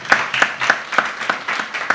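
A small audience claps for a rapper at a press event in Rwanda, with steady, fairly even hand claps repeating roughly every third of a second, close and moderately loud.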